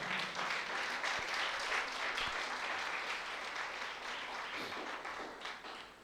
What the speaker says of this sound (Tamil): நல்லா கைத்தட்டுங்க